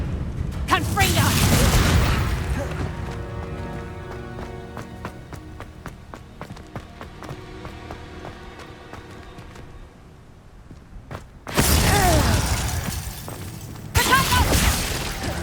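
Spell blasts from the Confringo fire curse burst in a Hogwarts Legacy duel, loud crackling booms at the start and again near the end, with quieter clattering combat and music between.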